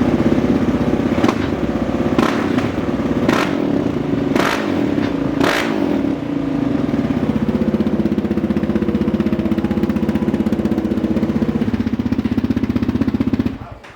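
A dirt bike engine runs loud and close, opening with several sharp throttle blips and revs before settling into a steady rough idle that cuts off abruptly at the end.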